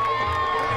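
A crowd cheers and shouts for riders at a Wild West show arena, a loud, dense roar of voices with children's shouts mixed in, brief and continuous.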